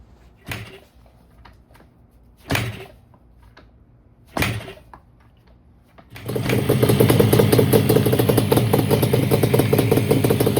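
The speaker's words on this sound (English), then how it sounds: "I'm gonna kick it over, see if it fires up." Three separate kick-start thumps on a barn-find Yamaha Banshee two-stroke ATV with pauses between them, then the engine catches and settles into a loud, rapid, buzzing idle.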